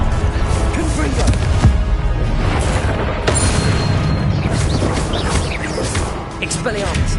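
The Confringo fire spell in Hogwarts Legacy goes off amid a continuous din of booming, crashing combat, with deep rumbling blasts layered under a character shouting spell names.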